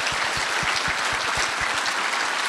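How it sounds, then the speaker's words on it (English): An audience claps for lightning talk presenters at a conference, steady broadband applause filling the room with individual claps audible up close, continuing without voices. "can we please have a round of applause for our Lightning Talk presenters for today?"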